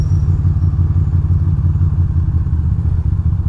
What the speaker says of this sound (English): we got another little Ducati here.